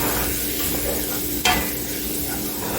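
Beef broth sizzles in a skillet with browned hamburger, giving a steady close frying hiss with one sharp utensil clink against the pan midway.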